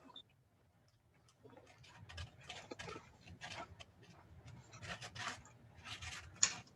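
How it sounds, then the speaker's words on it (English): Sandpaper rubbing epoxy off a rocket motor tube: quiet, irregular scraping strokes close by that grow slightly busier toward the end, with a sharp click near the finish. "use your hobby knife or some sandpaper to"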